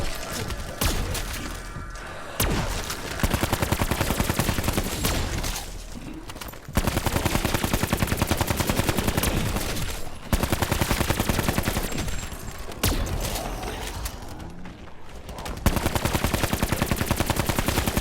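Loud, sustained automatic gunfire in Call of Duty Black Ops 4 Zombies, long ripping bursts broken by brief pauses, dense and close throughout.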